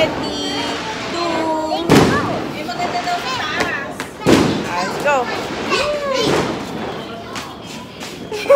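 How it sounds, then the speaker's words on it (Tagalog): Fireworks burst during a New Year celebration, with a few loud thumping explosions standing out among crackling bangs, while excited voices shout and cheer throughout. "There's fireworks!"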